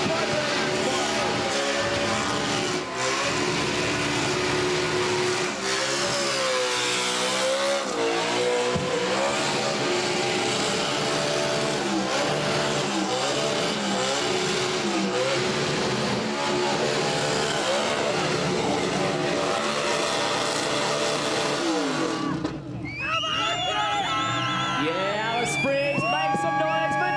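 A car doing a burnout in the Pro Burnouts final at Red CentreNATS rages on the limiter, its engine note rising and falling in repeated revving sweeps over a crowd, then cuts out near the end as higher whoops and cheers take over.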